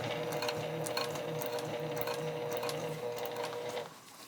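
A sewing machine stitches a fabric drawstring project bag in a steady, fast mechanical whir with a faint regular clack, running close and loud before stopping abruptly near the end.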